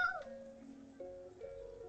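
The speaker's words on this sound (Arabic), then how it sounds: "في يا جماعه قطط في المحطه على فكره" Cats meow at a station, a short run of tonal, wavering cries rising and falling over a murmur of background noise.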